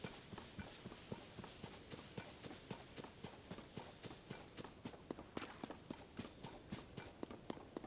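A horse's hooves in the Tears of the Kingdom video game, fast steady clip-clop of galloping or trotting heard close and continuous throughout, no talking.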